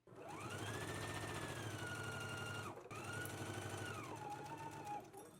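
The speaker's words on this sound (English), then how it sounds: "we can go ahead and stitch using a 5/8 of an inch seam allowance" Sewing machine running a dress seam at 5/8 inch allowance, a loud, close, steady motor whir in two long bursts with a brief pause between.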